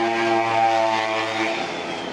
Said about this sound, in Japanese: すごい今の音バイクかと思いきや自転車なんですよ